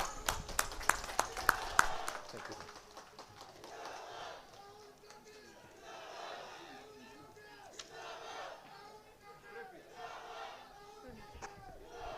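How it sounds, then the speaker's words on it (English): Political rally crowd at a public meeting in Imphal, Manipur, cheering and shouting as a leader is called to speak, opening with sharp claps and bursts, then a sustained roar of many voices with rhythmic rising chants. "deliver the speech to the exciting crowd awaiting for your arrival"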